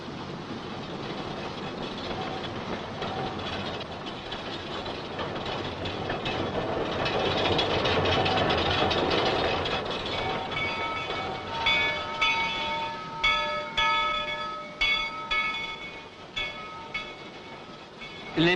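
A train rumbling steadily along the rails between Porto Velho and Guajará-Mirim, Brazil, in 1965, growing louder, then rhythmic clickety-clack of wheels over track joints toward the end.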